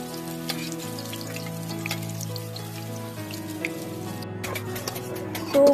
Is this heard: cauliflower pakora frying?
yes